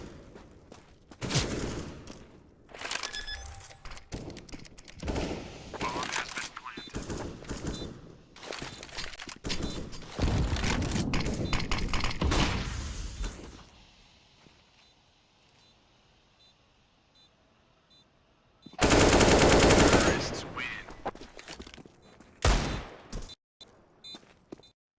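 AK rifle fire in a competitive video game match, Red Viperz vs Huat Zai: rapid bursts and clusters of shots crackle through the first half, a quieter lull follows, then a loud burst of fire and a few scattered shots.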